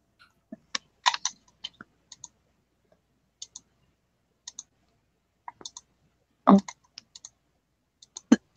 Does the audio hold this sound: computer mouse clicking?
yes